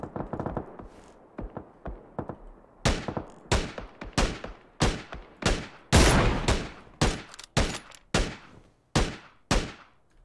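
Rapid gunfire in the battle-royale game PUBG, a dense run of sharp, loud shots and bursts that starts softer and builds into a steady, close string of cracks with short gaps, no voices.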